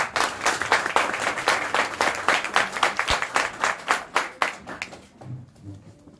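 An audience gives warm, steady applause for the poet and literature teacher Muzaffer Arslan at a poetry evening, with dense clapping that fades out near the end.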